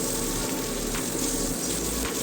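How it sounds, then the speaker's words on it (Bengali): Two dry red chillies and a pinch of nigella seeds tempering in hot oil in a pan, giving a steady, close sizzle and crackle throughout with no talking. "তেল গরম হয়ে গেলে ফোড়নে দিয়ে দিলাম 2টো শুকনো লঙ্কা এবং"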